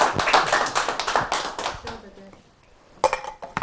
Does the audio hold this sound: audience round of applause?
yes